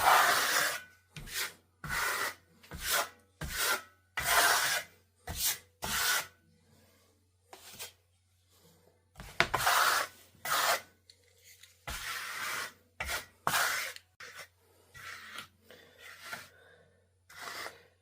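A steel trowel spreads and levels Lava decorative plaster over a sample panel, giving repeated scraping, rasping strokes in rhythmic bursts with short pauses between them, close and clear, with no talking.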